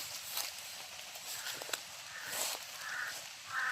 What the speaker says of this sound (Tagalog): Parang uwak yata yan.